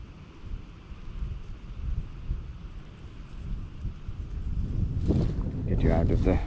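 Wind buffets a microphone on an open beach during a metal-detecting outing, a steady low rumble with gusts swelling louder toward the end.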